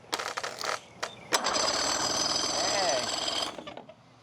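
A two-stroke outboard engine on an abandoned boat cranks in several short rattling bursts, then catches into a loud, sustained mechanical clatter for about two seconds before cutting out, with a brief voice nearby.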